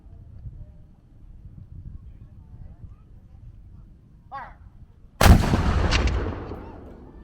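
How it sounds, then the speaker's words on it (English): A historical cannon fires at Fort Clinch, one sudden loud boom that rolls off into a long fading rumble after several seconds of quiet outdoor ambience with faint distant voices. "we have the men loading and firing"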